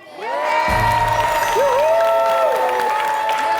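A studio audience applauds and cheers for a young child performer, with loud steady clapping and excited voices layered over a bright sustained tone.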